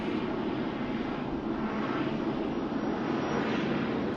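A Japanese airliner taxis at Sydney Airport, its jet engines a steady, fairly loud broadband roar and hum held throughout with no voices.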